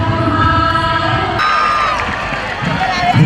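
Audience at an Independence Day school event cheering and clapping for children, a loud crowd roar that continues under a voice over a loudspeaker.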